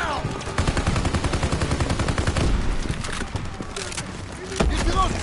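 Suppressive gunfire in a Call of Duty WW2 battle at the Rhine, with dense rapid bursts of automatic fire running continuously under loud shouted voices.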